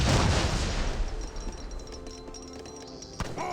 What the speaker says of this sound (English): Heavy cannons firing away.